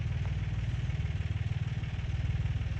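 A tractor engine chugs steadily with a rhythmic low-pitched pulse while climbing a hill, close and continuous, with no voices.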